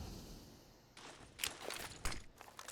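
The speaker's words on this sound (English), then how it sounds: "OM should be able to hear the footsteps." Footsteps sound in a tactical shooter match: a few quiet, uneven steps over a low background hum, faint and distant.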